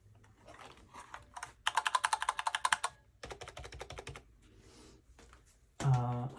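Typing on a full-size computer keyboard, with bursts of rapid, evenly spaced clicks and clacks broken by short pauses, close and moderately loud, then a louder thump near the end.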